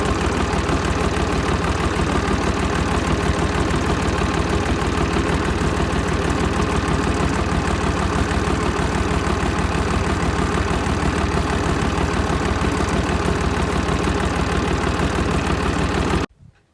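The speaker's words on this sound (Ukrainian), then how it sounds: "Так, сижу собі на тракторцю та й їду." A tractor engine runs steadily and loudly for the whole stretch while cabbage is planted in the field with a homemade two-row planter, then cuts off abruptly at the end.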